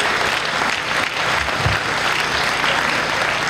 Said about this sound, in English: let's give a round of applause for Congresswoman Loretta Sanchez